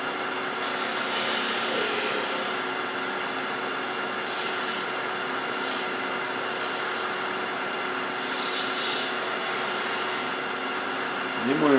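A wood lathe spins steadily while a 3/8 inch detail spindle gouge cuts a door stop, giving a continuous whirring hum with light scraping bursts, close and even throughout.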